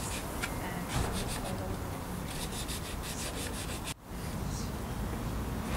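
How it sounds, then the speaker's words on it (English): Steady rough rubbing of sandpaper on wooden knitting needles, close and continuous, with a brief pause near the end. "We're sanding the needles so that they're nice and smooth."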